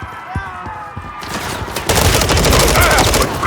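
Rapid gunfire fills a Call of Duty Modern Warfare III firefight, a few scattered shots giving way to a dense, loud burst of automatic fire.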